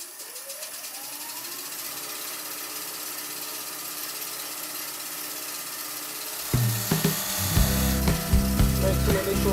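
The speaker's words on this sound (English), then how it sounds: "this is an 1/8 of an inch beading tool by Ashley Isles. So I'll just go down it and see how it comes out" 1/8 inch Ashley Isles beading tool cutting beads on a turned pen: a steady lathe hum first, then from about six seconds a loud, close, rough scraping and chattering as the tool bites the spinning wood.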